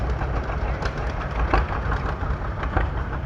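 An antique tractor engine runs steadily at an outdoor festival tractor show after a parade, a loud low rumbling drone with no talk over it.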